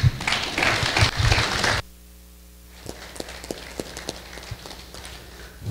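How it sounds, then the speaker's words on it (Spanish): Warm applause at a university journal launch ceremony greets the vice-rector of research, a dense burst of clapping for just under two seconds that cuts off abruptly, followed by near silence and a few scattered faint claps. "pido cariñosos aplausos"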